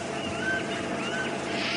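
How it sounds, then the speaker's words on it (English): A bird calls during a morning safari drive at Djuma Game Reserve, two rising whistled notes repeated over a steady rushing background, with no talk. "Now you can hear a very interesting bird calling"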